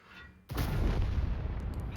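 A single heavy tank gun blast in the video game World of Tanks, from a WZ-113G FT, erupts after a brief quiet moment, its deep boom and rumble sustained until the end.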